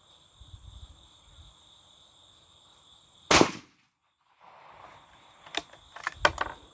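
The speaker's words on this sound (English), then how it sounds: "I'm going to shoot it and see if we can hit it" A single sharp gunshot from a .222 Rem Lee rifle fired at a jug outdoors, a loud broadband crack followed by silence, with a few fainter clicks and handling sounds afterward over a quiet insect-filled background.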